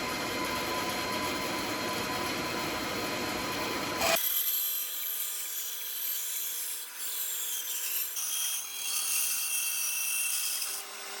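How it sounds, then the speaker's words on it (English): A bandsaw rips and mills wooden boards down to a common width for an end-grain cutting board. It gives a steady, close, rasping roar that shifts in tone partway through and continues without pause. "I'm going to take it to my bandsaw and mill it down to approximately the same width."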